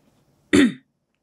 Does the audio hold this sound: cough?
yes